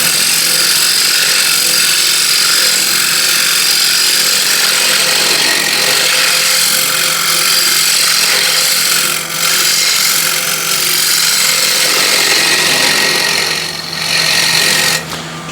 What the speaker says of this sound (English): for that I'll use this French curve scraper